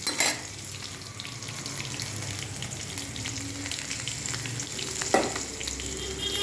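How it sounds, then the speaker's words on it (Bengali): Green chilies fry in hot oil as a tempering for a Bengali fish curry, giving a steady, moderate sizzle with light crackles and a sharp clatter just past the five-second mark. "তো এরপরে আমি কাঁচা লঙ্কা একটা ফোড়ন দিলাম"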